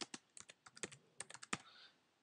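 Someone types a captcha on a computer keyboard: a quick, uneven run of crisp, close key taps with short gaps between bursts in an otherwise quiet room.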